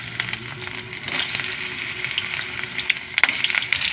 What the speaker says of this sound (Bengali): কড়া গরম হয়ে গেছে, এবার আমরা দিয়ে দেব ফুলকপিগুলো।